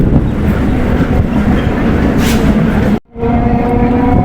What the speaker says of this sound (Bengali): আমাদের ট্রেনটা এখন ঢুকলো বহিরা কালীবাড়ি স্টেশনে